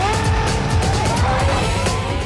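Red Bull RB6 Formula 1 car in a racing video game lapping the Korea circuit at Yeongam, a loud high-pitched engine whine climbing and shifting through gears, close and continuous.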